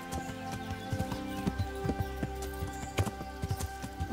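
Horse hooves clip-clop steadily in Kingdom Come: Deliverance as a rider moves along a path, a regular rhythm of close, distinct hoofbeats over a constant low game ambience with no talking.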